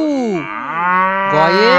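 A cow gives two drawn-out, loud moos, the first falling in pitch and the second rising, heard close and clear.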